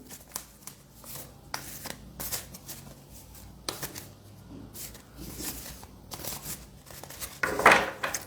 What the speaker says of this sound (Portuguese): Deixa eu embaralhar aqui